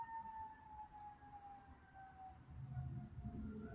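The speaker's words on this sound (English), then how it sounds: "Listen to the sirens going." Emergency vehicle sirens wail in the distance, a faint steady tone slowly falling in pitch over low rumbling outdoor background noise.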